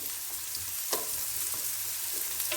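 Paella ingredients frying and being stirred in a pan, a constant loud sizzle with a few soft utensil scrapes and knocks, and no talking.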